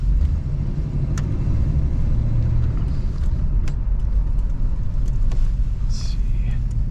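A 1979 Ford Thunderbird with 81,000 miles cruises along a road, its steady engine and tyre rumble filling the cabin continuously, with occasional light clicks and rattles and someone talking over it.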